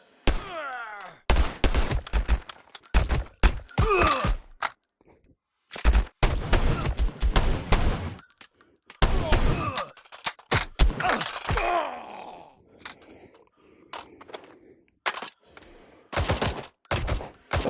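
A police shootout in a video game, with bursts of rapid gunfire and single loud shots in irregular volleys, mixed with groans and thuds, close and loud throughout.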